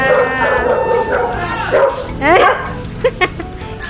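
Dog barking and yipping while it chases a Japan-surplus bicycle on a street, several sharp close barks with excited whines in a busy mix, someone briefly speaking.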